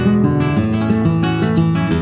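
Nylon-string guitar plays a flowing arpeggio from the Colombianas piece El Nuevo Dia, near and clear, with evenly spaced plucked notes ringing over a steady bass line throughout.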